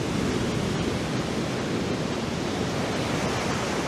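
Heavy surf roars in a dense, unbroken rush during a typhoon, loud and constant as wind and big waves pound nearby.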